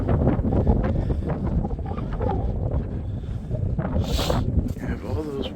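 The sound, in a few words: strong wind on the shore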